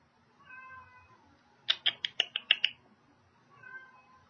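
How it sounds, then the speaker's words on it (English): A pet cat meows indoors, with soft drawn-out calls before and after a quick run of five or six sharp, loud yowls, all fairly close with no talking. "My cat is meowing."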